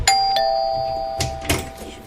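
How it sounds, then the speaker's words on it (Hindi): A doorbell rings once with a clear, sustained electronic chime, followed by a few faint soft knocks and rustles as it fades. "तभी डोरबेल बजती है।"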